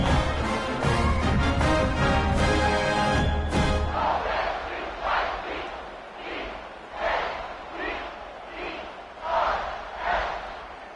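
Home crowd at a college football game between San Diego State and Oregon State roars loudly for several seconds, then settles into rising and falling waves of cheering farther back.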